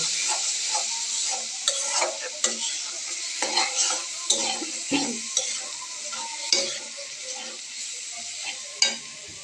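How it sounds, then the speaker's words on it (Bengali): Noodle ingredients stirred and fried in a pan, a steady close sizzle broken by repeated scraping and clinking of the utensil against the metal, with no voices. "নাড়াচাড়া করে নিচ্ছে, এগুলো ভালো করে ভেজে নিচ্ছে"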